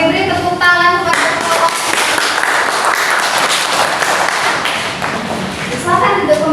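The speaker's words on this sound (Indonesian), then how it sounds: "beri tepuk tangan kepada" Classroom of students clapping in a micro-teaching lesson, a dense burst of applause lasting several seconds with voices mixed in at the start and end.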